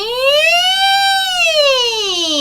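A voice imitates a siren, gliding smoothly up and then down in pitch in one sustained, loud wail.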